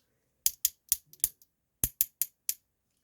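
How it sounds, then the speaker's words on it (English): Ratcheting joints on a Transformers Legacy Evolution Skyquake figure give sharp, close plastic clicks in two quick bursts of four or five clicks each, separated by a short pause in an otherwise silent room. "The arms are ratcheted for no reason, and they sound really weird."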